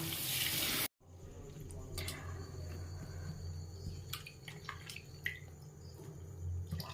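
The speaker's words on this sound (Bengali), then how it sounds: "ধুয়ে নিতে হবে ভালো করে ঠান্ডা জলে ধুয়ে এই জলটা চিপকে আমি" Soya chunks being washed in cold water, with a steady running-water wash and scattered splashes and drips after an abrupt start, close and fairly quiet, with no talking.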